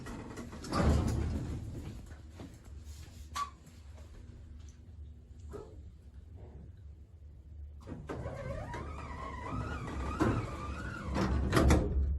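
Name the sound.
hotel elevator motor going up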